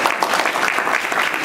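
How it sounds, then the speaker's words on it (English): Audience applause at a comic convention panel, the 2013 Amazing Arizona Comicon, a dense steady wash of clapping hands filling the room at an even level for the whole moment. "Round of applause."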